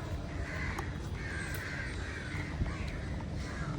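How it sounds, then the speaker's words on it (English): A crow in a garden gives about four harsh, evenly spaced caws at moderate distance, heard alone over a steady outdoor wash of noise. "You can see the crow jumping off."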